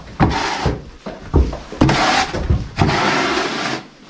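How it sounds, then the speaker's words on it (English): A shovel scrapes and slides across rubber stall matting in a horse barn while wet bedding is cleared, giving several close, rough scraping strokes separated by brief pauses. "Sliding the shovel on this matting."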